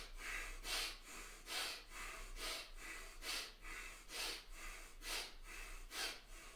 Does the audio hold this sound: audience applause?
no